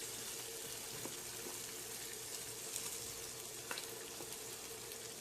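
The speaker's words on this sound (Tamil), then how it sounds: "வெங்காயத்தை போட்டு ஒரு 5 நிமிஷம் வதக்கிக்கலாம்" Thinly sliced onions and cashews sauté in a pan, giving a soft, steady sizzle with faint occasional clicks, quiet and continuous.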